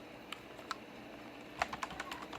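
Sparse, quiet keystrokes on a computer keyboard while entering data into an Excel spreadsheet, a few isolated clicks early on followed by a short cluster of taps near the end against a soft background hiss.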